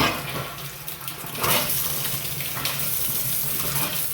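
Water runs steadily from both the hot and cold sides of a newly installed Fransiton widespread bathroom faucet with its aerator removed, a constant near hiss splashing into a sink, with no talk.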